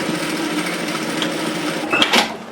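A sewing machine runs extra rows of stitching over a messenger bag strap, a steady loud mechanical whir that continues without a break and ends with a couple of sharper clicks.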